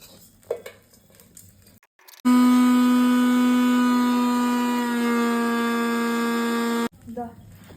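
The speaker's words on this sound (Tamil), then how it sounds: "சூடெல்லாம் ஆறியாச்சு இதே மிக்ஸியில் போட்டு அடிச்சுக்கலாம்" Kitchen mixer grinder blending coriander chutney, a loud steady whir that starts abruptly, runs for about five seconds at a constant pitch and then cuts off, with faint activity before and after.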